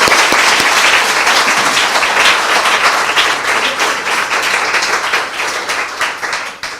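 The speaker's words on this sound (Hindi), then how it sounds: "आइए प्रभु यीशु के लिए एक जोरदार ताली बजाएं।" A church congregation claps loudly in sustained applause for several seconds, a dense, even patter of many hands that tapers slightly toward the end.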